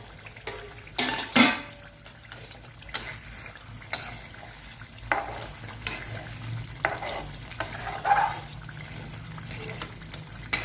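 Masala ridge gourd curry bubbling in a pan over low heat, a steady soft sizzle and simmer with scattered clicks and stirring knocks throughout, fairly close and even in level with no voices.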